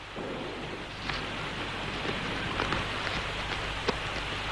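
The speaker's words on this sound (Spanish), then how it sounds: "¿Cuándo acabará de llover?" Steady rain falls in a scene from a 1969 Mexican film, a faint, even hiss with a few soft drips and taps and no voices.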